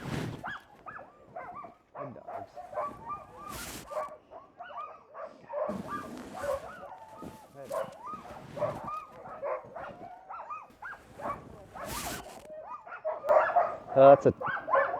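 Siberian Husky mix sled dogs bark and yip in short, repeated bursts from several animals, some close and some farther off, with a few louder barks near the end.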